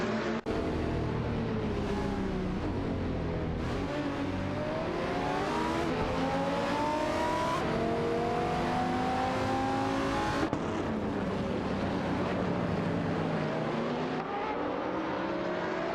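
Race cars in an AI racing video game scream past in a continuous engine drone, pitch sweeping up through gear changes and dropping as cars shift, several engines overlapping loudly throughout.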